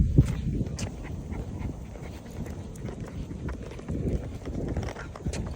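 Dogs out on an afternoon walk along a quiet road, their faint steps and panting moving close to the listener, with soft scattered background noise and occasional brief sounds.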